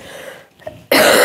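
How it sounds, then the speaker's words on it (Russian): A single loud, harsh cough bursts out abruptly near the end, after a short stretch of quiet room noise and faint breathing. "Прошу прощения, я до сих пор еще кашлю."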